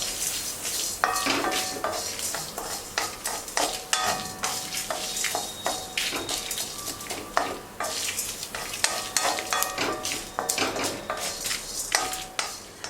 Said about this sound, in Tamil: அடுப்பை பற்ற வைக்காமல் ஆஃப் பண்ண அடுப்பில் தேங்காயையும் நான் வறுத்துக்கிறேன்